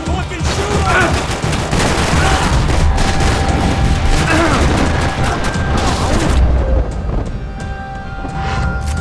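Sustained gunfire from the video game Max Payne 3, dense bursts of automatic shots and booms filling the whole stretch, loud and busy with faint voices mixed in.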